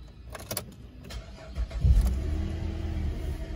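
The engine of a 2008 GMC Acadia SLT1 cranks and catches near the end of a few clicks and rustles. It settles into a steady, close idle rumble, with no talking.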